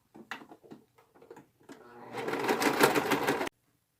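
A sewing machine runs a seam on a t-shirt, starting with a few short clicks and handling noises, then a close, loud steady whir for over a second that cuts off abruptly.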